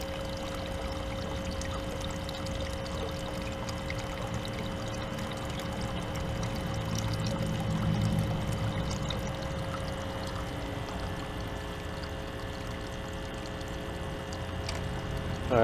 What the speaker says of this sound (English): Now the water is running up that hose, the black one, and dropping right back into the pond now